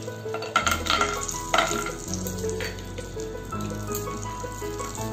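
Cashew nuts and chopped onions fry in butter in a pan over a low flame, a soft steady sizzle broken by a few scraping stirs near the start.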